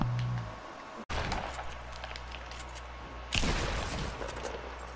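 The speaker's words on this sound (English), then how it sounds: "Every time I shoot, I get shot." Fortnite gunfire in sharp bursts, a sudden loud volley after a brief cut and another rattling burst later, fairly close, with no talking.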